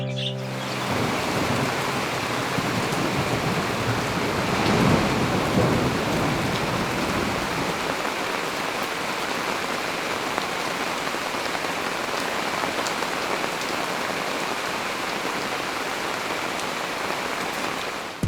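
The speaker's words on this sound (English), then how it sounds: "Finally, rain, and it couldn't have come at a better time." Heavy rain pours down steadily in an outdoor setting while a low roll of thunder rumbles beneath it early on, a dense continuous hiss holding for the whole stretch with no voices.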